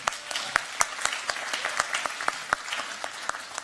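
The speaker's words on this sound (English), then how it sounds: "give everyone who organized this session a big round of applause" A conference audience gives a round of applause, sparse individual claps ringing out over a soft hall background, moderately distant and fairly even in rhythm.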